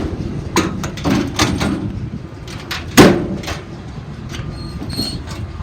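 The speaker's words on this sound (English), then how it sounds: "All the cabinet doors open and close as they should." Cabinet doors on a 2002 Dodge Ram 3500 utility truck being opened and shut, a series of metallic clunks and latches with one louder slam midway, close and fairly quiet.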